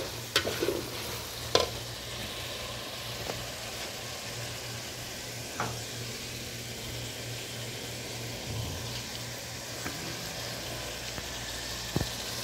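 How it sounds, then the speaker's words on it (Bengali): Potatoes frying with spices in a pan, a soft, steady sizzle under occasional stirring and a few sharp clinks of a utensil against the pan, fairly quiet throughout. "আমি আলুটা মশলার লগে দিয়ে কষাইতে আছি"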